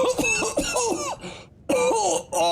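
A voice performing coughing during a tabletop fantasy role-play game: several harsh, throaty bursts in quick succession, close and fairly loud, with a brief pause before another round of coughs, imitated by a person rather than a real cough.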